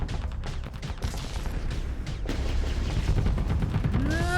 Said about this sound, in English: Now there's this one trying to get away from the missile barrage.